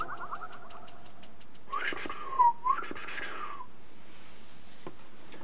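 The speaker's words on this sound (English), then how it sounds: "I can whistle through my teeth" A person whistles through their teeth, a few airy, wavering whistled notes in a quiet room, alone with no talk.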